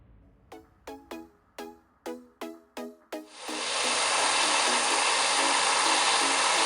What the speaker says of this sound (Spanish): Y qué mejor que hacerlo con la lijadora de banda